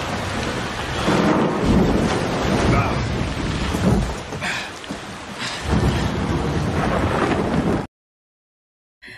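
Violent storm at sea in a film, with heavy rain pounding steadily and deep rolling thunder surging several times, loud and dense throughout before cutting off abruptly near the end.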